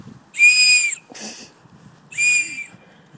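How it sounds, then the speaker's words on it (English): Two loud, shrill blasts from a dog training whistle used outdoors while training a Weimaraner, with a short rough rasp between them. "I think our Lizzie not know whether she's coming or going now, mate, with that whistle."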